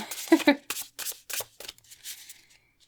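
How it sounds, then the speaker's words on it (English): A deck of tarot cards is shuffled in a few quick riffling bursts, close and soft, with a person speaking over it. "Okay, let's shuffle that again."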